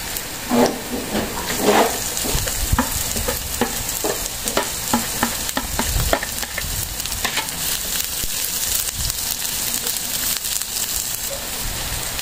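Onions sizzle and crackle steadily in a hot frying pan, a continuous near hiss with occasional stirring scrapes and pops throughout, no talking.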